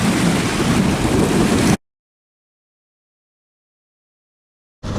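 Steady, loud rain falling at a dam during a carp fishing session, a dense hiss of drops that cuts off abruptly into silence and returns briefly at the end.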